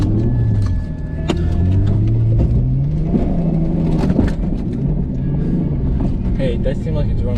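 A Ford Taurus engine strains and revs as the car climbs a hill, a loud, rising and falling drone under rattles and jostling, with people talking over it inside the car.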